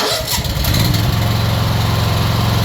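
A high-pressure washer's engine cranks and catches, then settles into a steady, loud, close-up idle with a low rhythmic thrum.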